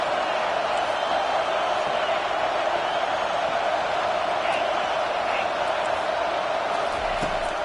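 A stadium crowd roars steadily in a college football video game between Alabama and South Carolina, a dense, sustained wall of cheering and noise that never lets up through the whole stretch.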